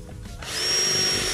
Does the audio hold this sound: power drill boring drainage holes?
yes